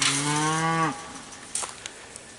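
A cow moos once, loud and close, a drawn-out tonal low that drops off, followed by faint rustling and scattered knocks in an overgrown summer food forest.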